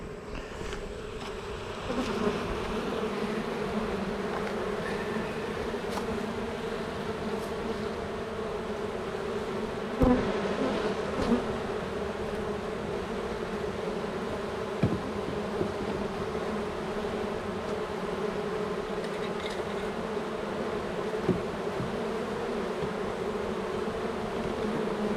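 Honey bees from a hive, roughly a quarter to half cup shaken in a jar for a mite check, fill the air with a steady, dense buzzing hum that holds throughout, with a few faint knocks and clicks breaking through.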